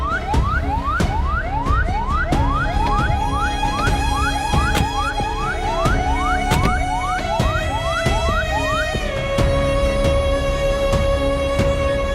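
A loud ambulance siren wails in steady, rapid up-sweeping cycles. Partway through it shifts to a lower sustained tone, heard close and alone without any talk.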